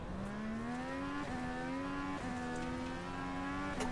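A simulated FIA Cross Car in the iRacing game held at full throttle, its engine note rising through quick upshifts with brief dips between gears, steady and loud with no talk over it.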